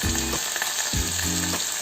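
Beef liver frying in a pan as it is stirred, with a steady loud sizzle and scraping stirs that come at a regular pace, and no talking over it.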